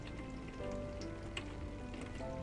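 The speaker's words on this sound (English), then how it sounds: "The rain continues outside for the next few moments." Steady rain patters outside in a soft, continuous wash, with scattered droplet ticks and a faint tonal hum underneath, close and gentle, no voices.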